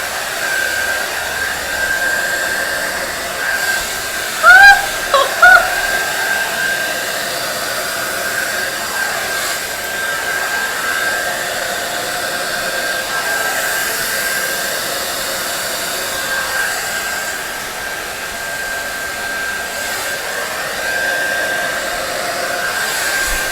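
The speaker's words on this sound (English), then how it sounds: "We'll try the hairdryer." A hair dryer runs steadily and loudly on a painting for over twenty seconds, a constant airy whoosh with slight shifts as it moves, a couple of brief squeaks near the start.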